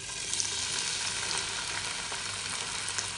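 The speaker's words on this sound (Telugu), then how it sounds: "ఇంకొక టేబుల్ స్పూన్ ఆయిల్ వేసుకొని టమాటాలను వేయించుకోవాలి" Tomatoes frying in a pan with an added tablespoon of oil for Telangana-style mint chutney, giving a steady, even hiss and crackle throughout, soft and close, with no voices.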